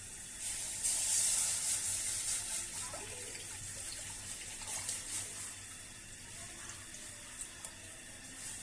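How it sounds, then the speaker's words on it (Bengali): Water is poured from a tap or vessel into a wok (kadai) on a medium-heat stove while preparing rice-flour roti, a splashing gush that is strongest at first and then settles into softer trickling. "তারপর চুলার আঁচ মিডিয়ামে রেখে পরিমাণ মতো পানি দিয়ে দিচ্ছি।"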